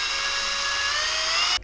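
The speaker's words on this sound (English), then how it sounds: "Drill them out from the inside so they're accurate." A drill bores holes from the inside of a carved lipless crankbait fishing lure, producing a steady, close, high-pitched whine that holds for over a second and then cuts off abruptly.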